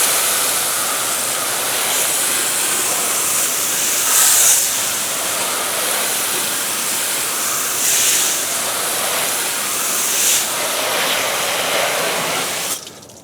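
A steady, loud spray of water rinses cleaning foam from a GMC truck's tire and wheel well, a continuous close hiss with slight surges, cutting off at the end.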